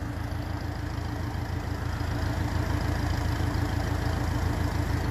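A 1957 Ferguson 35 tractor with a TVO engine idles at operating temperature, giving a steady, even low rumble that runs unbroken throughout with no talking.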